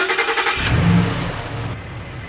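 A Ford F250 carrying a truck camper drives and accelerates near a giant redwood, its engine revving up loudly in the first second before settling into a steady mid-pitched running drone.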